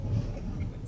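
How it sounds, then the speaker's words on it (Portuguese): A car pushes through deep snow on a winter road near Curacautín and the Malalcahuello reserve in Chile, a short, muffled low engine rumble heard close up from inside the vehicle. "o carro levantava neve na frente, assim, de tanta neve que tinha"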